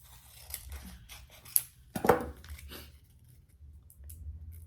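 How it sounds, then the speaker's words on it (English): Scissors cut clear adhesive vinyl for an Easter basket, giving a few soft snips followed by one sharper, louder crisp cut in the middle, close by in an otherwise quiet room. "So we are going to cut out a piece of our clear."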